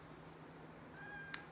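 A single faint meow rises briefly near the end over a steady low background hum, with a tiny click just after.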